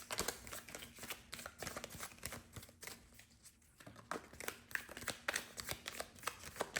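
Tarot cards are shuffled and handled in quick, close, soft riffling flicks and slaps, with a brief quieter pause midway and no talking.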